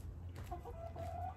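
Backyard chickens clucking on a patio in Portland, Oregon, with a few short, close clucks and calls rising over a steady low outdoor hum.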